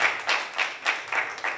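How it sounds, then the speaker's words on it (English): Short bursts of applause from a concert audience at a Hindustani classical music event in a temple hall, several uneven waves of clapping close together, fairly faint and with no talk over them. "big round of applause to him as well on that"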